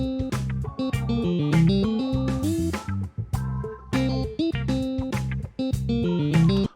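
Electric guitar licks played over a full backing track, a steady, dense stream of picked notes and chords running continuously at a strong level.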